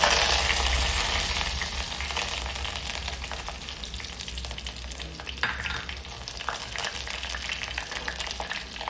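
Vadavam and curry leaves sizzle in hot oil as a tempering for a dried fish curry, a loud, dense crackling fry with scattered pops and stirring scrapes close by.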